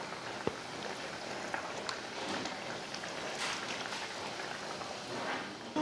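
Fish pieces rubbed with salt, turmeric and chili powder go into a simmering meen kuzhambu (fish curry), with steady close bubbling and soft crackle throughout and a small plop near the start; no voices.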